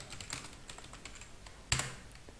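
Computer keyboard typing while entering data in Busy accounting software, a quick run of soft close keystrokes ending in one sharper, louder key press near the end.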